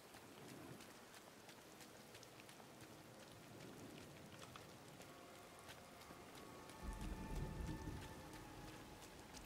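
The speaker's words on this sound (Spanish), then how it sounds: "¿Por qué siempre está lloviendo cada vez que me meto?" Steady rain with rumbling thunder in the video game Disney Dreamlight Valley, a soft continuous patter throughout that swells into a louder low rumble near the end, heard alone and at low volume.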